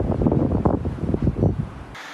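Strong mountain wind blowing snow roars in loud, gusty buffets against the microphone, rising and falling in waves before cutting off abruptly.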